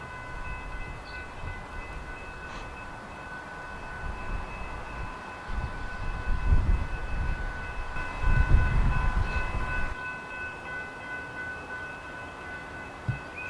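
A BNSF train idles at a station on a Memorial Day weekend, with a steady low rumble, a faint sustained tonal hum, and swelling engine throb midway before settling back down.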